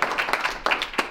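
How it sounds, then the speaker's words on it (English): A small audience at a team meeting celebrating sales results claps briefly, a quick burst of close, scattered hand claps with no voices. "Give yourselves a big round of applause."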